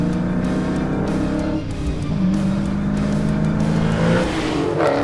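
A 2020 Dodge Challenger R/T Scat Pack Widebody with a naturally aspirated pushrod Hemi V8 accelerating, a loud continuous low engine roar that rises steadily in pitch and stays close and dominant throughout.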